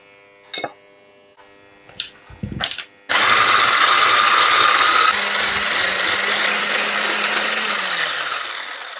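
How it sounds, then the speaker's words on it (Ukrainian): An electric hand mixer whips softened butter in a bowl, starting after a few clinks and bumps and running loud and steady with a high whirring drone for about six seconds. "У зручну ємкість перекладаємо масло, воно вже в мене ось таке м'ягеньке, і збиваємо міксером до світлої пухкої маси"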